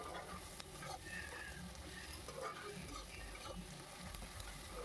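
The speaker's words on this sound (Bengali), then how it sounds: "ভালো করে নেড়ে চেড়ে পেঁয়াজটাকে বাদামি কালার করে ভেজে নেব।" Onions stirred and fried in a pan until brown for a mutton curry, giving a faint, low crackling sizzle with soft scraping of stirring throughout, no talking.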